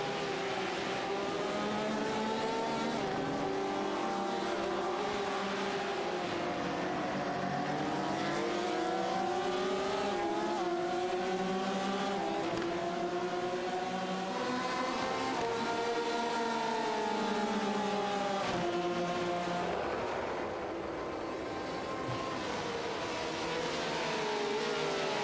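Race cars circling a track in a race, their engines wailing with shifting harmonic whines that rise and fall as the pack passes, loud and steady throughout.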